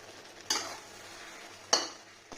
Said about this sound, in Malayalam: ഇതിന് നന്നായിട്ടൊന്ന് ഇളക്കി കൊടുക്കേ.